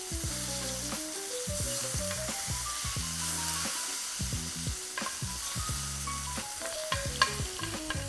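A ribeye steak sizzles steadily in a pan while being basted, with a dense crackling fry and repeated spoon scrapes and clinks against the pan; nearby and continuous, with no talking.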